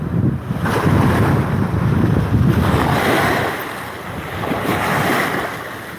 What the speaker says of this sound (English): These freaking waves are